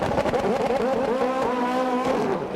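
An American Le Mans Series race car at the 2001 12 Hours of Sebring revs and slows in the pit lane, its engine note sweeping up and down in loud, close bursts before settling, with no talk over it.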